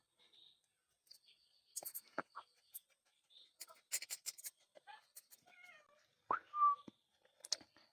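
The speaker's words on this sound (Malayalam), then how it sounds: "നമ്മുടെ ഓറഞ്ച് പൂച്ച, ഓറഞ്ച് ഓറഞ്ചു" An orange cat at home gives a few short meows, one clear cry standing out, amid quiet rustles, clicks and soft whispery sounds nearby.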